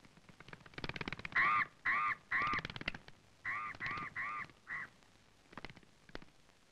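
Crows give harsh, rasping caws in quick bursts: a run of three, a pause, then three more and a shorter fourth, fairly close and clear over faint background noise.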